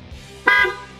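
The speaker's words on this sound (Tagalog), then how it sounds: "So, yan ang tunog ng busina niya bago ngayon." A short, bright honk from a newly replaced horn on a Yamaha Mio Aerox scooter sounds once, close by, over a low idling engine.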